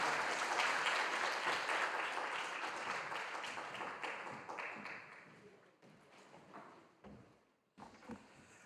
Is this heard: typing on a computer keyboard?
no